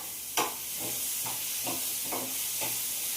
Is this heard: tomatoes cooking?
yes